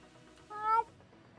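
A single short cat meow, fairly clear and close, rising and falling over a quiet background.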